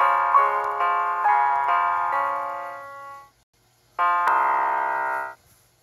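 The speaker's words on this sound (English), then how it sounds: "Play bells." A toy pig-shaped piano plays bright electronic bell tones, several chiming notes in a row ringing out, a pause of near silence, then one more sustained bell chime, loud and close with no talking.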